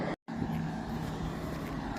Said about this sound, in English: The buses coming up the highway here for on the Sunday.